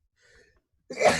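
Someone sneezes once, sharp and close, after a brief faint intake of breath, then the burst of the sneeze ends the moment.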